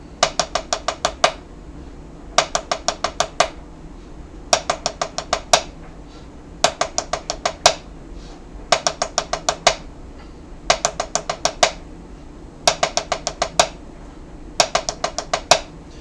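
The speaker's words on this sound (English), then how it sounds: "I'm using the harder side of my practice pad so you can hear the drag rudiments cleaner" Drag rudiments are played on the hard side of a drum practice pad: crisp, dry sticking in short grouped bursts of about six strokes, repeated evenly with brief pauses between groups.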